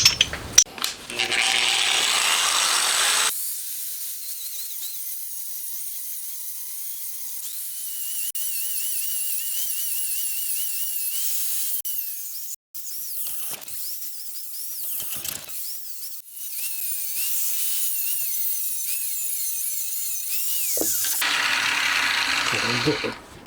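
Slits are machined into a jig for the main shaft gears of a homemade 125cc four-cylinder, 16-valve engine, giving harsh broadband grinding bursts at the start and end with a quieter mechanical whir between.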